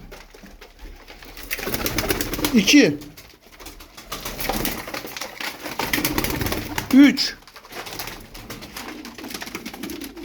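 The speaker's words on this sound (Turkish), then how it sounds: "Bunlar Ankara kuşu abiler. Güzel kuşlar." Ankara pigeons, a Turkish tumbler breed, coo and rustle close by while a man counts aloud, with a couple of deeper, louder coos standing out over the steady flutter.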